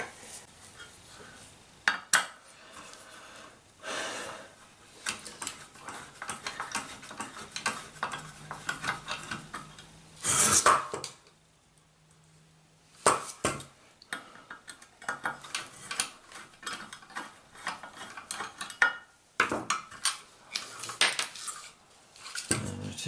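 Power transistors and screws are worked loose from a boat battery charger circuit board, giving close metallic clinks, scrapes and rattles in irregular bursts, with a brief buzzing tone partway through and some quieter gaps.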